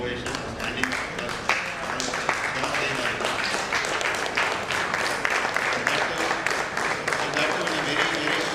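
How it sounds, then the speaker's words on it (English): Applause at a medical association conference day, with dense overlapping claps sustained evenly throughout at moderate loudness, fairly close, and no voices standing out. "They definitely need a big applause, a standing ovation, a standing applause"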